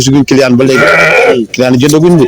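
Sheep bleat loudly and up close at a livestock market, with long wavering calls repeated several times in quick succession, one overlapping the next.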